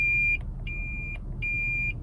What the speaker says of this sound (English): When you're backing up and someone is crossing at the rear of the vehicle, you're going to get some beeps.